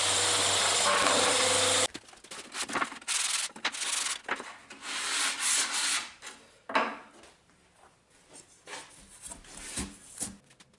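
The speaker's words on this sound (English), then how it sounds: "A little hit with the sander and a bit of hand sanding on the edges never hurts before assembly." Rough abrasive rubbing of sanding on wood, a steady loud burst from a power sander at first, then uneven strokes of hand sanding on the edges continuing with pauses.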